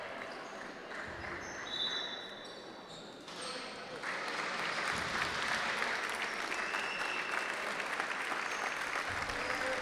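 A crowd applauds Captain Merella of Coral Alghero as he goes to rest during an Italian basketball game against InnovYou Sennori. The clapping is steady and fills the arena, growing louder and denser partway through and running to the end.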